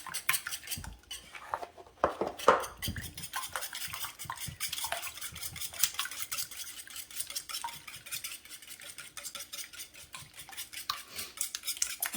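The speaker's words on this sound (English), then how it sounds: "Just whisk these up." Eggs whisked by hand in a bowl for a breakfast casserole, with rapid rhythmic clinking and tapping of a utensil against the dish, a brief louder clatter early on, then steady quick beats close by, no talking.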